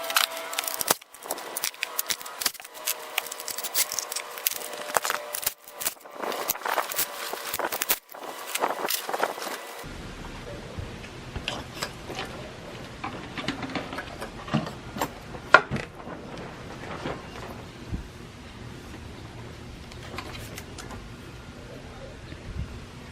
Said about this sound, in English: Now we're going to go ahead and take off all the bolts.